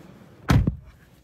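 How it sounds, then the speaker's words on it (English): Doors of a 2023 Jeep Avenger electric SUV swung shut from inside the cabin: one solid thud followed immediately by a smaller second knock with a slight rattle, close and dry against a quiet interior. "there is a slight rattle sound when closing the doors"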